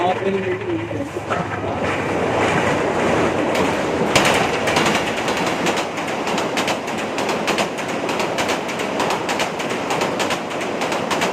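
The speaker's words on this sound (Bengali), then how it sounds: "বলতে বলতেই ট্রেন চলে আসছে দেখুন ঢাকাগামী ট্রেন" A passenger train bound for Dhaka runs near a junction of three bridges over a river, its steady rumbling clatter filling the whole stretch while people talk over it and birds call faintly.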